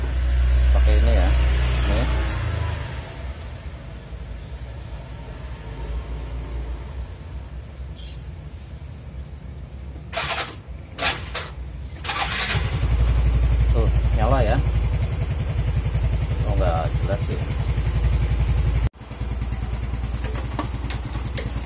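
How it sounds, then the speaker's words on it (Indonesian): A motorcycle engine that has had starter-button trouble starts and idles steadily, a low continuous rumble near the microphone with a brief interruption partway through, while someone talks over it at times. "Tapi kita nyalakan dulu motornya."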